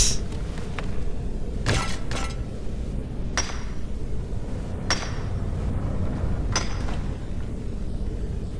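Metal hammering at a forge while smithing dwarven gear in Skyrim, a handful of sharp ringing strikes spaced a second or so apart over a steady low background hum.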